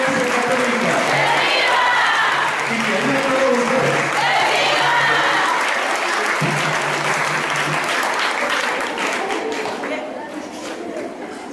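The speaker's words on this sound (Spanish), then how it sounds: "vamos a pedir un aplauso para el Padre Fermín, porque él nos motiva" A church congregation at a patronal feast Mass applauds the priest, broad sustained clapping mixed with a few cheers and voices, fading gradually toward the end.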